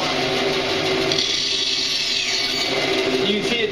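A bandsaw makes release cuts in wood with a loud, steady whining buzz of blade and motor close by, running continuously with a subtle change in pitch as the cut proceeds; a voice can be heard under the noise.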